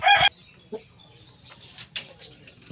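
A young gamecock stag at a small backyard rooster pen gives a short, loud crow-like call at the start, followed by soft scattered clucks and faint sounds.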